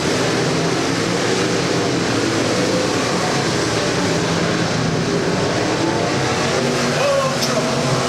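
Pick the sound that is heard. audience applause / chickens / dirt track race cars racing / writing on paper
dirt track race cars racing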